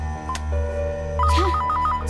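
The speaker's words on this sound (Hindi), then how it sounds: "किसका फोन है?" A telephone rings in a Hindi-dubbed South Indian action film scene, with short electronic tone bursts repeating in a quick pattern over a low background hum, moderately loud and with no speech.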